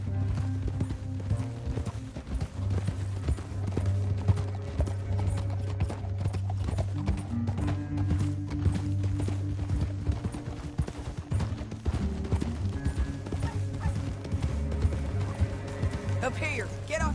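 Horse hooves clip-clop steadily and continuously in a PS4 western video game, with occasional whinnies, a voice in places and background game sounds throughout.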